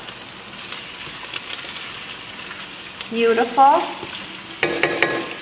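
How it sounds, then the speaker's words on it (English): Green beans and chopped onion fry in a pan, giving a continuous soft sizzle with occasional stirring scrapes, while a voice speaks briefly over it. "We want to fry the green beans a little with the onion."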